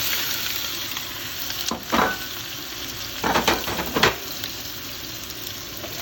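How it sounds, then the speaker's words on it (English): Potatoes fry in a hot pan over a high flame with a steady, close sizzle, broken by a few louder bursts of stirring and clattering as they are tossed. "And now we put the potatoes in."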